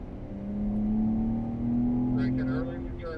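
A BMW race car on the Circuit of the Americas track accelerates out of a corner, its engine a loud, steady, slowly rising drone heard from inside the car, with a voice talking over it near the end.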